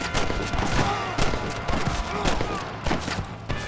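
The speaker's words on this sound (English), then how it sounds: "This dude keeps shooting me, bro." Rapid gunfire aimed at the player in a video game: repeated sharp shots in quick irregular bursts throughout, close and loud, with a voice talking over them.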